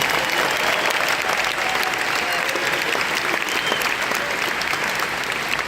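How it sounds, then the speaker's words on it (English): A large audience applauds at a Rock and Roll Hall of Fame induction ceremony for Bad Company. The clapping is dense, loud and sustained across the whole stretch, with no pauses. "They deserve a round of applause, please."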